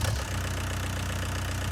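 Vehicle engine in Farming Simulator 19 running with a steady low rumble and even firing pulses, close and constant without any voices.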